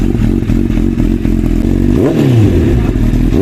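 A Honda CBR Fireblade SP superbike engine runs loud and close, a rough rumbling idle that rises into a quick rev and sweeps back down.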